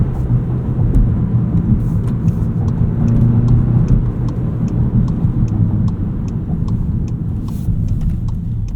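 A 2025 Volkswagen Jetta GLI with a manual gearbox drives along, its engine humming and droning steadily from inside the cabin with faint clicks and ticks over the road noise.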